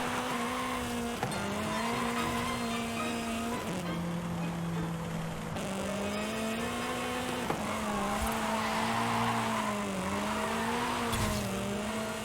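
A Toyota Corolla built as a Formula Drift car drifts in a racing video game, its engine droning and revving continuously while the tires squeal in long, shifting wails, with no talking.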